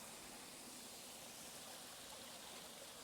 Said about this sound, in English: a bit of a creek flowing at the moment.